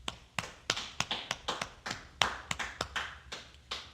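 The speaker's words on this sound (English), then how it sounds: "Clap it up." Sharp individual hand claps in a loose, uneven rhythm, about three or four per second, close and fairly quiet, with no talking.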